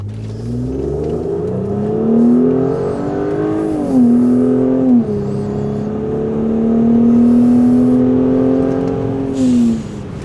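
A modified turbo V6 Mercedes GLE engine with an M276 megaphone exhaust revs loudly and steadily, its exhaust note rising and falling through several pulls over about ten seconds, with no talking.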